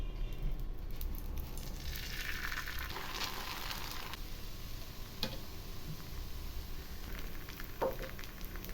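Wheat flour dosa batter poured onto a hot griddle, giving a soft, steady sizzle with faint ticks and scraping, quiet and close, with no talk.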